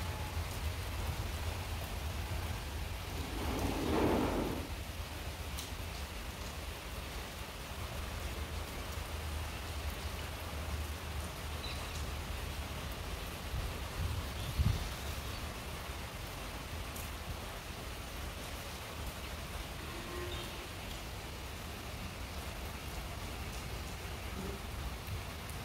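Steady rain falls outdoors while the sun shines, a continuous even hiss throughout with a brief louder patch early on and a faint thump midway.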